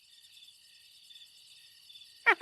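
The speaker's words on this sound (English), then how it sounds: "that's a nice recording of a cricket" A lone cricket chirps in soft, regular pulses inside a quiet house, faint and steady throughout, and a brief louder sound breaks in near the end.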